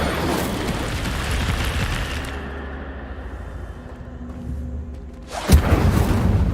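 An Incendio fire spell cast in Hogwarts Legacy, a loud rushing whoosh and burst that fades into a low rumble before a second sharp fiery blast erupts near the end.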